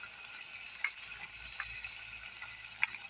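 Chopped onion pieces and whole peeled garlic cloves frying in a pan while parboiled ingredients cook, giving a steady soft sizzle with a few brief stirring clinks, close and fairly quiet.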